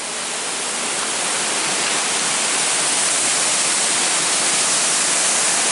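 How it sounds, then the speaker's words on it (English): Tunnel Falls on the Eagle Creek Trail in northern Oregon, a large waterfall heard up close. Constant, loud, broadband roar of falling water, unbroken and steady, with no voices. "Kind of glad we came back this way, man, just to be able to see this majestic waterfall again."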